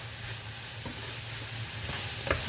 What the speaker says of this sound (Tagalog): Ngayon, haluin natin.